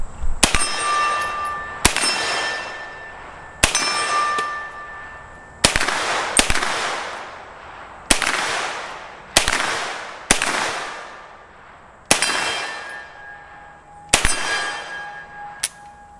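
Nine single shots from a B&T GHM9 9mm carbine strike a steel target, each sharp crack followed by a ringing metallic clang that decays over about a second, spaced at a steady, unhurried pace.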